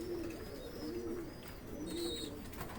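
Low, soft pigeon coos repeat three times in a slow rhythm over steady background noise, with a few faint higher chirps from other birds.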